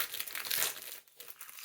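A plastic-wrapped pack of witch-themed junk journal supplies gets torn open and unwrapped, with close, loud crinkling and crackling of the wrapper that fades briefly before a few more rustles.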